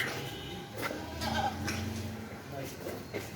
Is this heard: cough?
no